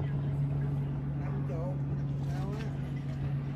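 Twin-engine Sea-Doo personal watercraft running on Lake Sidney Lanier, a steady loud engine drone with a constant low hum throughout, joined by faint voices talking over it.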